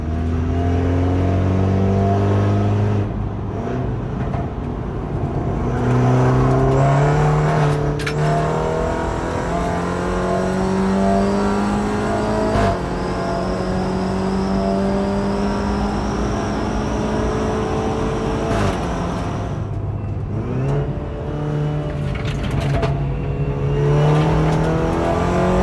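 An automatic BMW F30 driven hard on a race track, its engine repeatedly climbing in pitch through upshifts, dropping briefly and revving again, loud and close from inside the car with no speech.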